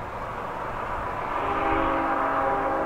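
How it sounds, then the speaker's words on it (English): A BNSF grain train rumbles past nearby in steady, broadband noise, with a sustained horn-like tone rising in the second half, on a windy day. "I don't know what kind of train this is."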